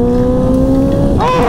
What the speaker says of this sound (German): Ich gebe mal ein bisschen Gas im vierten.